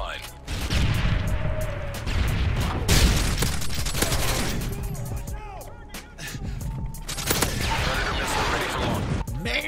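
Modern Warfare 3 on the Hardhat map: dense, continuous gunfire with sharp cracking shots and heavier bursts packed close together through the whole stretch, with speech in the clip.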